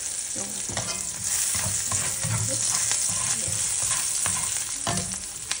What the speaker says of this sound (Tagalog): Tapos maglalagay ako ng garlic.